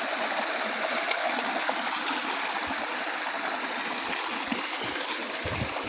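Water gushes steadily from a village hand pump as someone showers beneath it outdoors, a continuous broadband rush with no talking.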